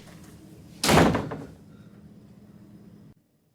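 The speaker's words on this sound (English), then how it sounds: "just one Andrew would usually just knock or just run into my door and just come here uninvited and unannounced" A single loud, sudden bang of a door being burst open or slammed, followed by a quieter lingering room tone before silence.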